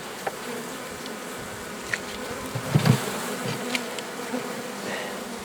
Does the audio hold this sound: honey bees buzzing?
yes